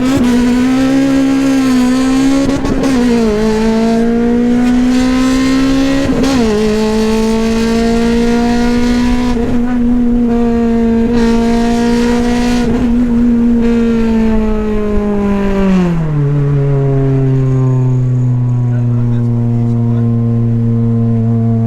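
A K24-swapped Honda FN2 Type R engine drones loudly and close at high revs, holding near the rev limiter with slight wavering pitch, then drops sharply toward the end.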